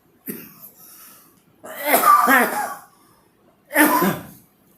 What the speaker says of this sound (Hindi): थोड़ा तेज बोलने से आदरणीय खांसी भी आ जाती है मुझे